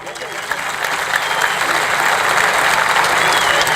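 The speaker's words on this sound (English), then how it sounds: "he deserves a great applause from you" A crowd at a political sit-in applauds in honour of Nelson Mandela, steady dense clapping that swells slightly and holds loud throughout.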